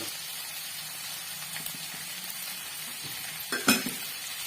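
Tomato and mushroom gravy with salt fries gently in a kadai, a soft, steady sizzle with faint stirring, ending in a brief louder scrape and clatter near the end.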